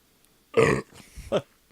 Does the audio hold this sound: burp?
yes